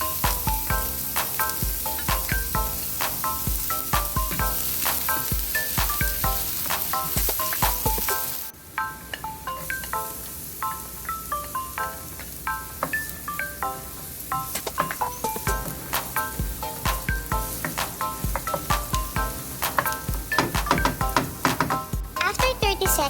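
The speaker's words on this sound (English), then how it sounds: "Now we are going to saute onion and garlic." Onion and garlic sauté in hot oil in a pan, a continuous close sizzle under a steady bed of background music.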